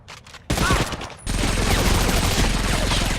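World War II gunfire in the PS2 game Medal of Honor: Vanguard, loud dense bursts of weapon fire starting abruptly and continuing as a sustained, layered barrage with brief pauses.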